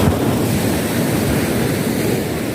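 Rough sea waves crashing steadily along the shore at Gloria, Mindoro, a dense continuous roar of churning surf with gusts of wind buffeting the microphone.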